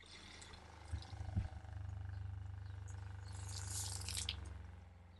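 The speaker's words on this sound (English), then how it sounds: "I'm going to use it to pump the water out." A small RV water pump runs while pumping water out of a 63-gallon storage bladder, a low steady hum with faint water trickle and a couple of brief knocks, quiet and close.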